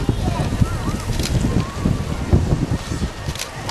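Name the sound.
strong wind blowing on the microphone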